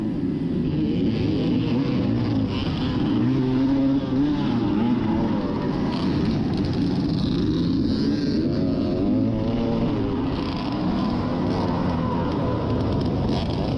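Dirt bikes racing in a cross-country (XC) buddy race at CJ Raceway on the East Coast, Triple Crown 2020, their engines making a loud, continuous drone that rises and falls as they rev, with no break throughout.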